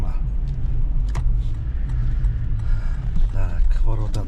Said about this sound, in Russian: Едем со стороны столичного рынка, торговый центр